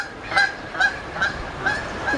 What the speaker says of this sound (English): Just don't get too close to the goose, okay? Because they can get a little pesky.